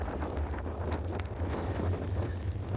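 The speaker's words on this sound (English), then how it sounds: "It's so windy and it's also raining and it's cold" Gusty wind buffets the microphone on a rainy, cold Oregon coast trail, a low continuous roar with uneven surges, loud and close, with no voices.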